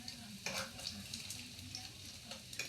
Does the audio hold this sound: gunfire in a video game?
no